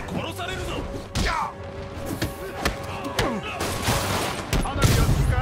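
Explosions and fireworks in the Marvel's Spider-Man video game crackle and thump as a rapid, irregular barrage of bangs, with game dialogue voiced over the blasts.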